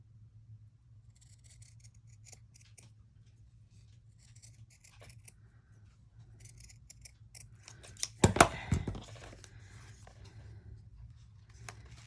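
Scissors cut through paper for a junk journal in one brief, crisp snipping burst amid quiet handling and faint rustles.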